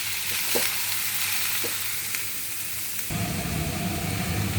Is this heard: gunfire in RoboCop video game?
no